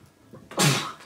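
A single sharp human sneeze bursts out near the mic after a short quiet lead-in, loud and close, set in a calm drawing lesson.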